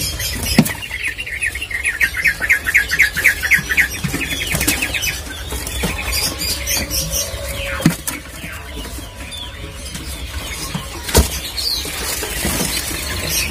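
Caged male sogon songbirds chirp at a bird kiosk in a market, with rapid trills early on against a busy background of rustling, flapping and scattered clatter, no voices.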